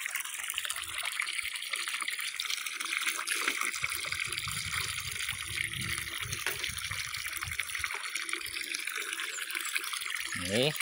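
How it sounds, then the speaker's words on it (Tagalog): Strong, steady rush of water gushing from a solar water pump's hose, a constant broadband hiss throughout with faint voices under it. "lakas ng tubig oh"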